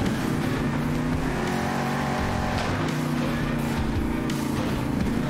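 The engine of the El Toro Loco monster truck in Monster Jam Steel Titans 2 roars loud and continuous, revving and shifting pitch as it races, a dense, unbroken drone throughout.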